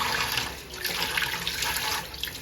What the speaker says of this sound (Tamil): 2 கையுமே வாஷ் பண்ணிடு.